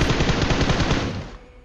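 A fast burst of close, loud automatic gunfire rattles in PUBG Mobile, a brief spray of pre-fire shots that fades out at the end.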